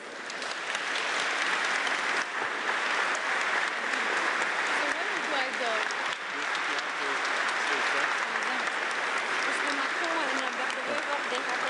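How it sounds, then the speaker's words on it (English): Sustained audience applause welcoming the French President and the Belgian Prime Minister at an EU leaders' meeting, steady and dense throughout with faint voices mixed in. "Please give them an applause."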